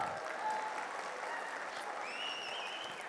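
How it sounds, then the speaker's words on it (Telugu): An audience at a Megastar Chiranjeevi birthday celebration event claps in a dense, steady wash of applause that holds at an even level throughout. "ఒక్కసారి ఆయన గట్టిగా చప్పట్లు కొడదామా?"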